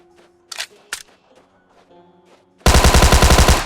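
Automatic gunfire in PUBG Mobile, preceded by a few faint clicks and scattered soft effects, then a loud, close, rapid burst of evenly spaced shots lasting about a second.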